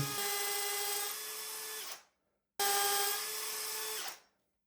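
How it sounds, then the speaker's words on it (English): A power drill bores into a natural stone wall in two loud, close bursts, each a steady high motor whine that drops slightly in pitch under load before spinning down, separated by a short pause. "I really don't like drilling into natural stone walls."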